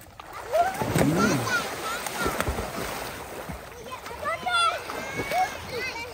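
A child jumps into water at a family swimming outing, producing a splash early on, then sloshing and churning water while children and adults shout and talk excitedly throughout.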